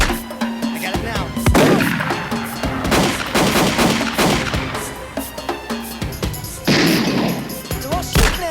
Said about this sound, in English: They're all shooting at us.